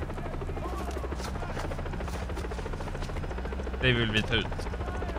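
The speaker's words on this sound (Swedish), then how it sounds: "Helikoptern." Helicopter in the video game Far Cry 3, a steady rotor drone running throughout under Swedish speech, with a brief louder burst of other game sounds near the end.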